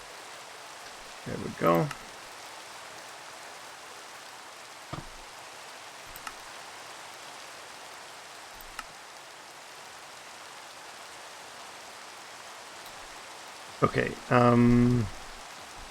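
Steady hiss of rain falling in a modded Minecraft world runs throughout at an even, soft level, with short bursts of talk near the start and the end.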